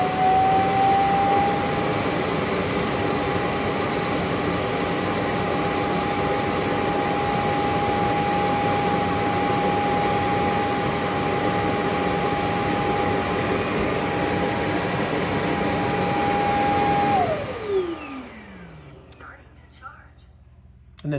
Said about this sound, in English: you'll hear it turn on and suck out the dirt